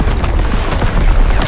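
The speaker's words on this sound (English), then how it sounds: "Incoming enemy artillery!" An enemy artillery explosion in the Call of Duty WWII video game, heard as a loud, sustained low rumbling boom with crackling debris over its short length and no voices.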